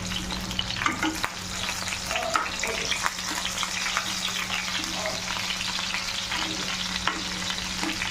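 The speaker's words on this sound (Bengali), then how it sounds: "দেখো বেগুনগুলো আরেক পাশটা পাল্টে দেবো।" Spice-stuffed eggplants are turned over in a frying pan of hot oil, with a continuous close sizzle and crackle marked by scattered light clicks and scrapes as the pieces are moved.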